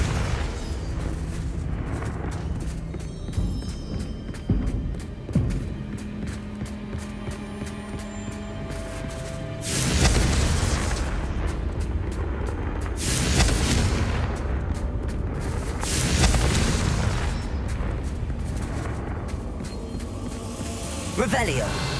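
Confringo blasting spells explode in Hogwarts Legacy, several booming bursts spaced across the stretch over game music and effects, with voices talking at times.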